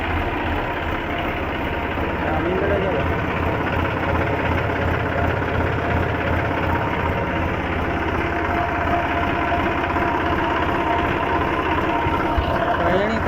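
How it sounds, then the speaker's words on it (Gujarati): A farm tractor's engine runs close by with a steady, loud, low drone and unbroken rumble, ready to head out for the groundnut harvest. "આપણે કમ્પ્લીટ ટ્રેક્ટર ચાલુ કરી દીધું"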